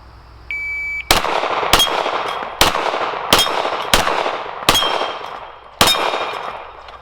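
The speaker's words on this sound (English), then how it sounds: "7 shots and still missed one." Seven sharp, loud pistol shots from a Canik TP9 SFx at an outdoor shooting range, fired at an uneven pace with brief ringing decays between them. A faint electronic beep sounds just before the first shot.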